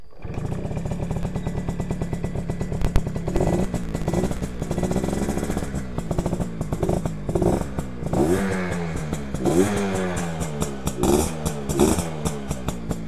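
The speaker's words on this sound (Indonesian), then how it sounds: "Mesinnya masih dingin jadi mengok." A freshly repainted Yamaha V80 motorcycle with its engine still cold runs with a close, uneven two-stroke putter that rises and falls in pitch as the throttle is blipped, with some clatter.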